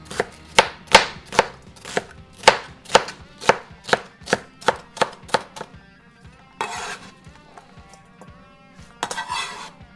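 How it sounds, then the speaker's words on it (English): Vegetables chopped small on a cutting board for torshi pickles: a steady run of sharp, close knife knocks, followed by a couple of brief rustling, scraping bursts. "Okay, we chop them small."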